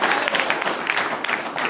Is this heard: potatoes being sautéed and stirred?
no